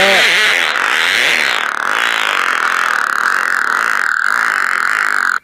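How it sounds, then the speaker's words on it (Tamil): A long, continuous fart-like rasp that holds steady for about five seconds, loud and close, then cuts off abruptly. "நீ தான் குசு போட்டுட்ருக்கியா இவ்வளோ லென்த்தாக போடுற"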